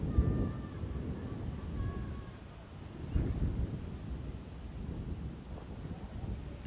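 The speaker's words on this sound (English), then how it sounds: "See, it's a bit of a windy day in Sofia" Wind gusts buffet the microphone at an outdoor cricket ground in Sofia, Bulgaria, during a T10 match, a low rumbling roar that swells and eases, with faint distant tones in the background.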